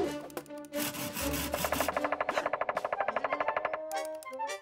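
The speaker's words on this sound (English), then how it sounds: "Why does it keep banging its head against the logs like that? I believe this is a woodpecker." A cartoon woodpecker pecks rapidly at tree logs, a fast burst of sharp, evenly spaced wooden knocks lasting a couple of seconds, preceded by a scraping rub and set over animated soundtrack music.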